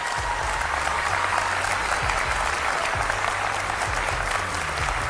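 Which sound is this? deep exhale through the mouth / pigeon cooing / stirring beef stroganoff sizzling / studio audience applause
studio audience applause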